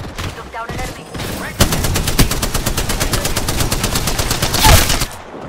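Rapid, loud automatic gunfire from a Spitfire light machine gun in the battle royale shooter Apex Legends, a long continuous burst of evenly spaced shots with a few scattered shots and game effects before it, and a voice talking briefly.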